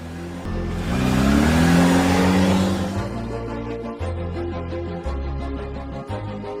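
A car engine revs up to a loud, full roar and then eases into a steadier drive. The sound stays close and alone, with no voices over it.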